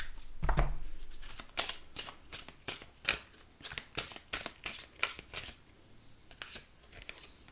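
Oracle cards are shuffled in a quick series of crisp, papery riffles and slaps, close and fairly quiet, with no talking.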